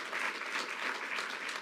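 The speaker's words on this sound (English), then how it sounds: "Let's give Frank a round of applause." Steady, full round of audience applause for Frank Wu at a Governor Hochul event, sustained clapping from a large crowd heard clearly throughout with no talking on top.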